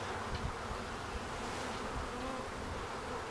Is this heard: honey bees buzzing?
yes